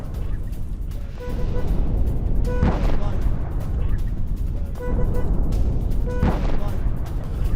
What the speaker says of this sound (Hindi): ये देखिए, नहारिया में हिजबुल्लाह का विनाशक रॉकेट हमला